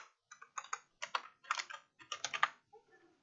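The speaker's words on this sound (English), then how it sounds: "so let me type in Mars orbit" Quick bursts of typing on a computer keyboard, close and crisp, with clusters of rapid key clicks separated by short pauses and no voices.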